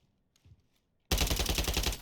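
Sustained automatic gunfire in Call of Duty MW3, a loud, dense burst that starts abruptly after near silence and continues rapidly to the end.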